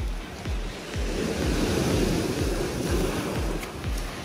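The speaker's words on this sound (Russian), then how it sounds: "Волна прям! Такое голубое!" Sea waves roll onto the shore in quick repeated surges, a steady wash of surf with wind buffeting the microphone, fairly close and moderately loud, with no voices.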